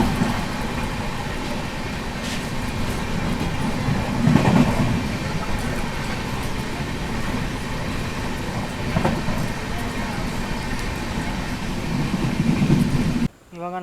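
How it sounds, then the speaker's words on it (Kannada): The Murudeshwar Express pulls out of Mandya station with a steady, loud rumble of wheels and carriages heard from on board and faint rhythmic clatter throughout. "ಇವಾಗ ನಮ್ಮ ಟ್ರೈನ್ ಡಿಪಾರ್ಟ್ ಆಗ್ತಿದೆ ಮಂಡ್ಯದಿಂದ"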